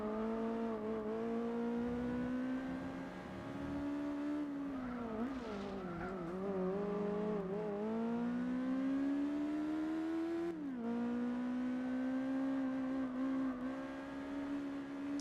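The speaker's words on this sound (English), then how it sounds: "It does make the correct noise for an Integra, doesn't it?" A Honda Integra engine in the racing game Gran Turismo 4 drones steadily through the clip, its pitch rising through the gears with a few brief dips and shifts, with faint tire noise and no talking.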